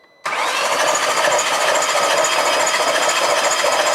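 A VW Golf R32 with fuel pouring out of cylinders 5 and 6 is turned over, its engine noise bursting in abruptly after a brief silence and holding loud and steady to the end.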